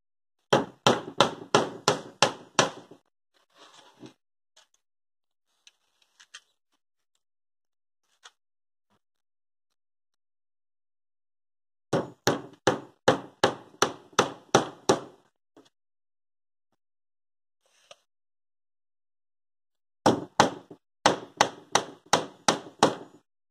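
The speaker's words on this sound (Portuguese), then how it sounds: "Eu estou usando um prego grande que tem para atravessar toda a tábua." A large nail is hammered through a wooden crate board in three separate bursts of rapid, sharp, evenly spaced blows, close and loud, with near-silent pauses and a few faint knocks between them.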